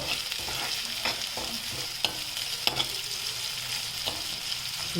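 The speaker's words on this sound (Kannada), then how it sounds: "ಈರುಳ್ಳಿ ಸ್ವಲ್ಪ ಹಸಿ ವಾಸನೆ ಹೋಗುವಷ್ಟು ಚೆನ್ನಾಗಿ ಹುರ್ಕೊಂಬಿಡಿ" Onions frying in a pan for moong dal curry, a steady sizzle with occasional sharp scrapes and taps of a stirring spoon, close and moderately loud, no voices.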